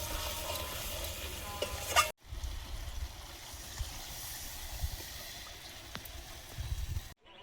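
Chicken curry pieces sizzle steadily in hot oil while being stirred, a soft continuous frying hiss with faint scraping, briefly cutting out for a moment before resuming at the same low level.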